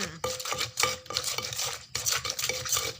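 Pounded rice noodle salad being tossed and mixed with fermented fish sauce, producing a continuous run of wet scraping and stirring strokes with light utensil knocks, close and fairly loud.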